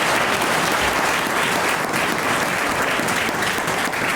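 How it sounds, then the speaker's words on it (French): Applause from an audience at a gathering, a steady, full clapping that continues evenly throughout with a faint crowd murmur. "On applaudit."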